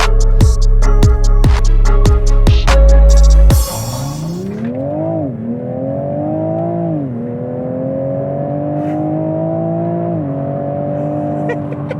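A Toyota GR Supra with a 3.0-litre twin-turbo six-cylinder first emits loud, rhythmic pulsing bursts, then accelerates hard through several gears, the engine note climbing and dropping at each shift, close and continuous.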